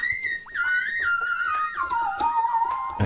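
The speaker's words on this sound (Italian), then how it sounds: "il classico fischietto lead R&B" A bright, whistle-like R&B synth lead from a Korg R3 glides and bends through a melodic phrase, sliding smoothly between pitches, clear and upfront with no voices.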